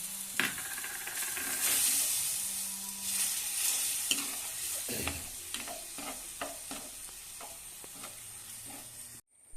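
Sardine curry base with kudampuli tamarind water added, sizzling and bubbling steadily in a pan, with a spoon stirring and scraping through it at close range and no voices.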